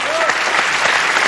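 Dense studio audience applause on a French TV game show, loud and steady throughout the short stretch with no gaps.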